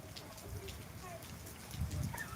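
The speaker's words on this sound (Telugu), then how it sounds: "చిన్నపాటి వర్షం అయితే కురుస్తుంది" Light evening rain falls faintly and steadily, a soft patter of drops under quiet background sound, with a murmur of voice at moments.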